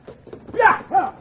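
Horse hooves clop a few times on hard ground as a radio drama sound effect, two louder hoof strikes standing out near the end of the brief, close-up burst.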